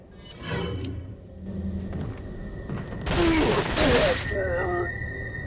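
TMP submachine gun fire in Resident Evil 4, a loud sustained burst over game sounds, with someone talking nearby.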